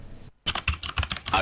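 Keyboard typing sound effect in a Spanish-language radio ad: a quick run of sharp clattering keystrokes after a brief silent gap, close and crisp, with no talking.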